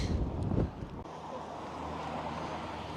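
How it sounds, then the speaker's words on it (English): Wind gusts across the open ground at Petra on a cold, cloudy day, a steady broadband rush with a louder low buffeting burst at the start before settling into a constant blowing roar. "It is windy and cold"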